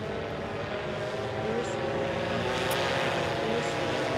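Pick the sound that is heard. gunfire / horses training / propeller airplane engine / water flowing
propeller airplane engine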